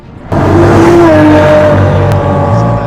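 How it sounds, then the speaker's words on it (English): A Lamborghini on the road, a loud close engine roar that swells in suddenly and holds steady with a rising whine, no talking. "Lamborghini on the road"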